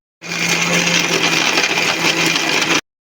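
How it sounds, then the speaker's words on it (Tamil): A mixer grinder grinds coconut with water and cardamom, a loud, close, even whine that starts abruptly, runs for about two and a half seconds, then cuts off. "இப்போது தண்ணி விட்டு அப்படியே நல்லா அதை அரைக்க போகிறேன்"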